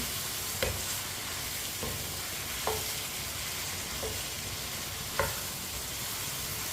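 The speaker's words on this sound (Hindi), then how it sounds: "अच्छी तरह मैंने शलजम को मिक्स कर लिया।" Turnips cook over high heat in a pot with a steady hissing sizzle, while a spoon stirs them with a few distinct scraping strokes spaced through the clip, close and without speech.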